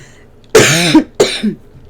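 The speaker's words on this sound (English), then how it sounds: "Please forgive me coughing." A person gives two short, harsh coughs in quick succession, close and loud against a quiet background.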